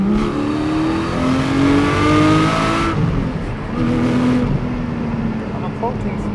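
A Porsche Cayman 718 GT4 sports car is driven hard through tight bends at around 60 mph, its engine note rising and falling steadily throughout, with a voice talking over the continuous engine sound.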